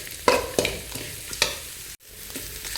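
Grated coconut and onion frying in a pan for avalakki chitranna, a close steady sizzle punctuated by several sharp scraping stirs, with a brief cut to silence near the end.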